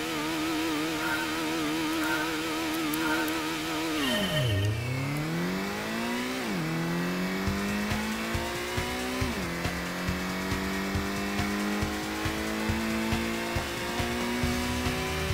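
A race car in Gran Turismo, its engine revving hard and falling in pitch through gear changes, then climbing again as it speeds up, loud and continuous, with no voices.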